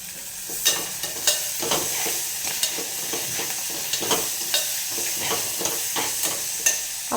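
Coriander and mint go into a golden-brown mixture frying in a pan for bagara rice, with steady close sizzling and repeated scraping stir strokes and no talking.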